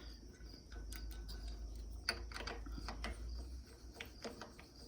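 Guitar tuning pegs are cranked to tighten freshly fitted strings, giving faint, quick ratcheting clicks and soft mechanical ticks in irregular bursts over a low hum.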